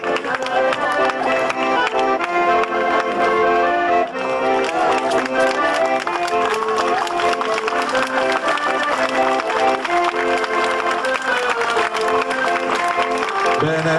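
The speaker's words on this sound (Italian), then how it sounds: "va benissimo l'applauso per questa bella, bella scena, scena contadina" Sustained audience applause greets a staged peasant scene at the 2015 La Sposa Cerrese event, a dense wash of clapping running for many seconds and blended with loud music playing throughout.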